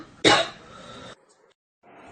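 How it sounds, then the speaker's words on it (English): A woman gives a single sharp, close cough, followed by a short, quieter trailing breath. "she started coughing badly"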